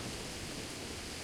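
Steady, loud broadband roar of a heavy storm with pouring rain in Kingdom Come: Deliverance, sustained and even throughout with no distinct thunderclap, no voices.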